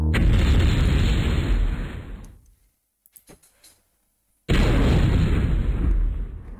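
An airstrike explosion in the video game MechQuest: a loud, full rumbling blast that fades out, a short quiet gap with a few small pops, then a second heavy explosion erupts and holds loud to the end.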